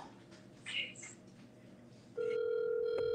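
A telephone tone on an outgoing call sounds as a steady, loud electronic tone starting partway through, after a stretch of muffled background and voices.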